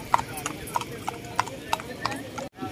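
Racehorses' hooves clip-clop in a steady, evenly spaced run of about eight sharp hits during a horse race in San Rafael, Bulacan, with crowd noise and talk underneath, cut off abruptly near the end.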